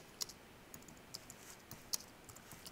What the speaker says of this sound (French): On va taper ici et retour chariot, puis entrée sur le clavier.